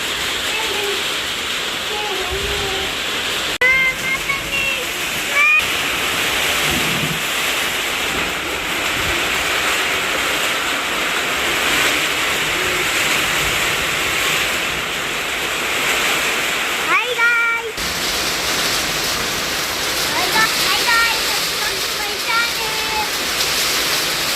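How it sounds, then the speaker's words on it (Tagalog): Heavy rain and wind beat on a tin roof in Nepal, making a steady, loud, broadband roar that fills the whole scene. People talk occasionally beneath it. "Grabe yung ulan na."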